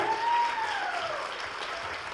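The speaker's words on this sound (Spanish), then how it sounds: "Un aplauso" Audience applause at a technology panel event, a steady wash of clapping from a crowd, fairly even and continuous, with a faint tonal whine running over it.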